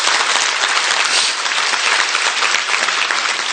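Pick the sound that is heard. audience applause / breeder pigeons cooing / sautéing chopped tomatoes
audience applause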